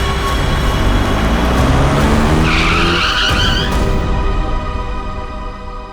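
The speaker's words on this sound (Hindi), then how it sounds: "बीच सड़क में गाड़ी क्यों रोक दी?" A car skidding to a stop on a road, a loud sustained tyre screech rising and fading over several seconds before the vehicle settles.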